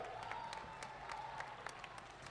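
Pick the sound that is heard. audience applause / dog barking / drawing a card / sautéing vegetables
audience applause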